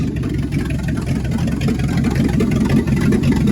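An old truck engine idles steadily after sitting 26 years, its carburetor needing adjustment: a continuous, rough low rumble with a rattly mid-range whir, close and even throughout with no talk.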